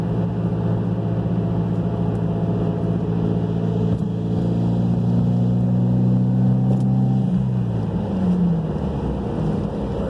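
A Mitsubishi Lancer Evolution X accelerates in a roll-on along a busy interstate, its engine a loud, steady drone with tones that climb and then shift, and constant wind rush throughout.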